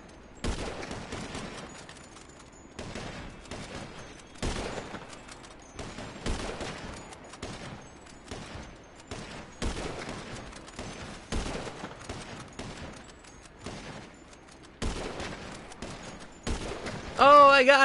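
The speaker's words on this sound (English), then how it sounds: "Some long-range sniper battle." Long-range sniper gunfire in a GTA V Online match: a run of sharp rifle shots at irregular intervals, each a loud broadband crack with short decay, over a quiet background, with a brief louder tonal sound at the end.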